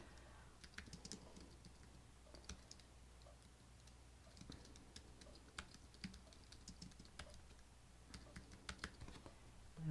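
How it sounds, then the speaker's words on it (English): Quiet, close typing on a computer keyboard, irregular clicks of keystrokes in bursts over a faint background hum. "I'm going to start typing"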